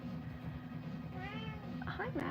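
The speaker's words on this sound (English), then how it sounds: "That's my cat, if you hear meowing." A pet cat meows in a few rising, wavering calls near the end, close to the microphone, over steady room hum with a person talking.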